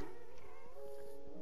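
A cat meows in a Minecraft game, a single drawn-out, slightly wavering tone lasting just over a second, fairly clear and close.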